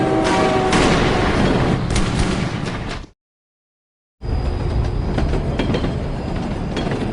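A train rumbles and clatters along the rails, loud and steady. The sound cuts out for about a second, then the heavy running noise comes back.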